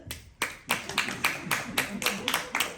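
A comedy club crowd claps in distinct, irregular bursts, about a dozen separate sharp claps after a short quiet start, close and fairly loud, with some voices underneath.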